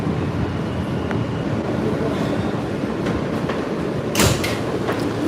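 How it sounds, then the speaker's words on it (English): Steady rumble of a New York City subway G train bound for Church Avenue, with rhythmic rail clatter and squeals throughout and a sharp bang near the end. "This is a Church Avenue bound G train."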